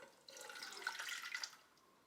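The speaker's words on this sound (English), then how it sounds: "This is my milk. I'm going to pour 9 ounces." Whole milk pouring from a container into a bowl while making yeast rolls: a steady, moderately quiet liquid stream running about a second and a half, then tapering off, with no talking.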